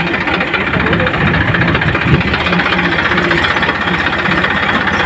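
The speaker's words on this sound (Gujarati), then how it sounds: "હું અને મારા ભાઈ આકાશજીએ ટ્રેક્ટર લઈને ઘરેથી નીકળી ગયા છીએ" A tractor engine runs close and loud, a steady knocking chug with a rapid even rhythm throughout, heading out to sow castor.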